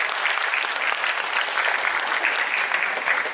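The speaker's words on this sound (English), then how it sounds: "Let's give her a round of applause as well." Audience at a DreamWorld tiger presentation applauds, a steady wash of clapping from a crowd heard throughout a few seconds.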